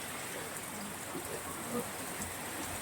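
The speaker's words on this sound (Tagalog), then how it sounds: "Lakas ng ulan." Dense steady rain pouring down during a typhoon with strong wind, a constant hiss of drops on surfaces with faint voices buried underneath.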